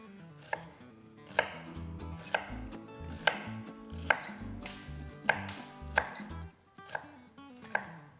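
A knife chops an onion steadily on a cutting board, a run of sharp, regular knocks with soft crunching between strokes, close by and with no talking.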